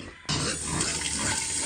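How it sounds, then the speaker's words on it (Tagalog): Water poured from a tap or container into pig feed, a steady splashing rush starting abruptly and running loud and continuous close by. "dagdagan natin ng konting tubig pa"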